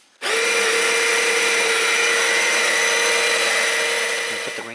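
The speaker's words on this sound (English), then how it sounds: "Push the grinder again." A Baratza Sette 270 coffee grinder grinds beans in one loud, steady burst that starts abruptly and holds a continuous motor whine, then tapers slightly at the end.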